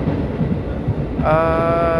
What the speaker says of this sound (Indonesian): kereta api Sri Tanjung meninggalkan stasiun Purwosari